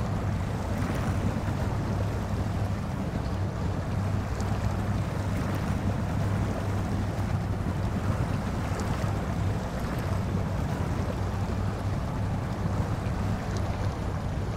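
A Ford F-750 truck with a stock engine ploughs through mud in the SnowRunner video game, giving a steady, loud engine drone with a low hum and constant churning noise that runs unbroken throughout.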